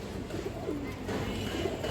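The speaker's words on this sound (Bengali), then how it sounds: "একদম পুরান জাতের বড় সাইজের একটা দর্শক চিলা নর কবুতর" A large old-breed chila male pigeon coos in a low, throaty rhythm, close and steady against a soft background, with no voices.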